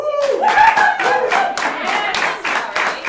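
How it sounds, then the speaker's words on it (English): A small theater audience claps in a quick scattered burst, with chuckles and voices mixed in among the hands. "Clap your hands if you've been here before"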